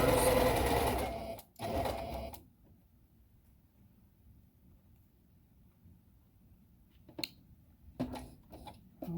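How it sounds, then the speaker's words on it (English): A sewing machine runs in short close bursts while stitching a fabric face mask, a long buzzing run at the start, then a pause while the material is turned, then brief stitches near the end. "Make sure your needle's down before you turn your material around, or your stitches look funny in the corners."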